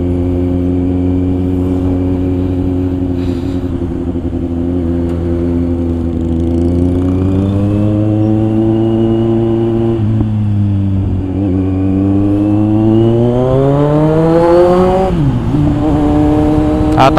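Steady engine drone from vehicles in Sunday traffic in the Saraga area, Iloilo, with harmonic tones that rise and fall as engines rev and shift, close and loud throughout, plus a brief rising whine near the end.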